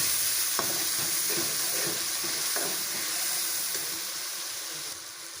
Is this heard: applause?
no